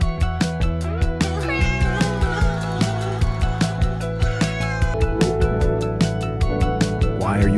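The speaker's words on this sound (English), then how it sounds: "The poor cat started to cry." A cartoon kitten cries and meows over and over in a loud, sobbing, wavering wail, set against a steady musical backing with rhythmic beats.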